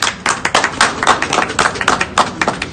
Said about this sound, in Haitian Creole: un gros coup de chapeau par un tonnerre d'applaudissements